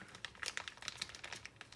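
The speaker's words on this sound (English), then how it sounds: "now just start twisting the cloth while I force that little golf ball size amount of Japanning at the bottom to start to come under pressure" Cloth and a plastic bag are twisted tight to squeeze japanning through as a filter, giving soft, close crinkling and crunching in irregular bursts, faint and alone without talk.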